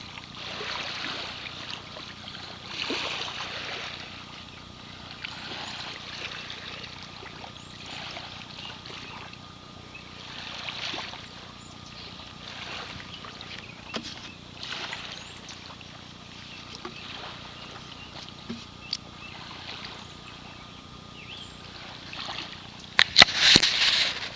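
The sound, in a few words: water poured over a honeycomb coral rock from Lake Michigan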